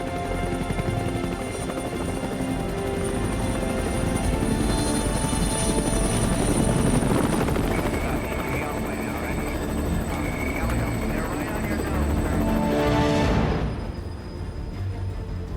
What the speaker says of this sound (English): I hear the drone of the helicopter engines.